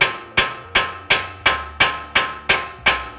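Hammer taps on the side of a steering knuckle during a CV axle replacement on a 2019 Ranger, nine sharp metallic strikes at a steady rhythm, close and loud with no talk.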